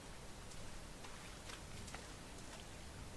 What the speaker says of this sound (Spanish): sigue lloviendo aquí en la ciudad de Henderson